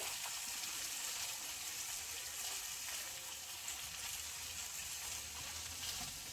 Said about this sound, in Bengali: লাউটা দিয়ে দিয়েছি, এবার একটু নেড়ে চেড়ে নেব